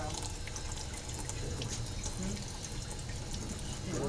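Water pours steadily into a cone filled with Pastelite, giving a continuous, quiet trickling and splashing rush with faint dripping throughout.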